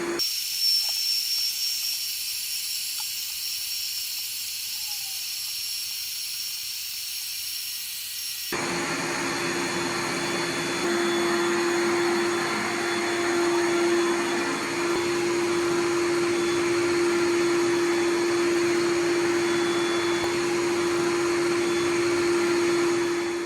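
An electric air pump fills an Intex ultra-plush inflatable air mattress, giving a loud, steady whooshing drone with a high whine. Partway through, the sound jumps to a fuller, louder roar that keeps going without a break.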